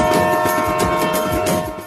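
The Ooty toy train draws near on its mountain line, heard as a loud, steady mechanical rumble with sustained horn-like tones and rhythmic low thumps of the carriages, no voices over it.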